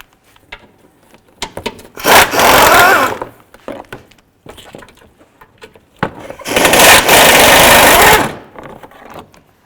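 A power tool loosens the 10mm bolts under the bumper of a Dodge Grand Caravan: two loud, sustained whirring bursts, each about a second or two long, separated by quieter clicks and handling noises.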